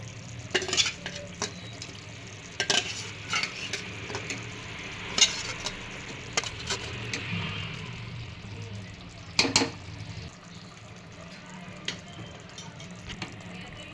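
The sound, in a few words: stirring and frying eggs in a pan for egg biryani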